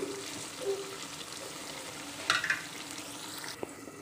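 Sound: stuffed brinjals frying in oil

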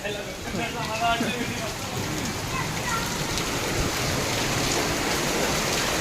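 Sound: heavy unseasonal rain

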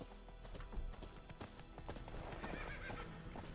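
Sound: horse galloping in video game The Witcher 3

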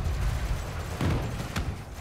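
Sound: spaceship cannons firing in the video game Elite Dangerous

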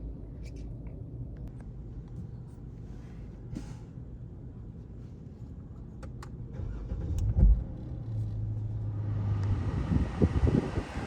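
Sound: car driving, engine and road noise

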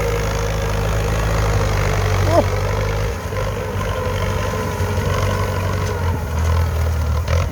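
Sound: Ford tractor engine idling

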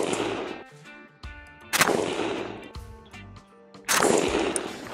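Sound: gunshots from Arsenal SAM5 5.56 AK rifle

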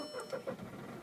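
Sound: Volkswagen Polo SE TDI 2011 engine starting

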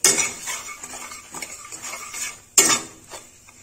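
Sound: roasting kachori filling spices in a pan

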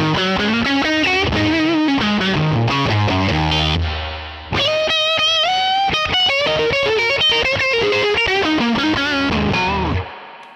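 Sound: electric guitar through amp plugin

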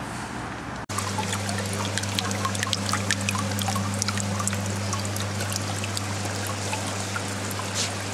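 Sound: running water

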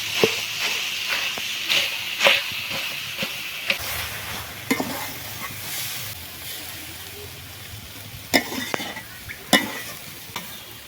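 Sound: mashing potatoes in pan with glass

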